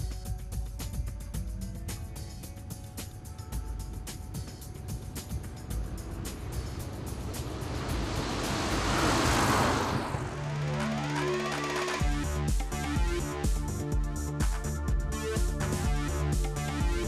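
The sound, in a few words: Piper Navajo aircraft engine taxiing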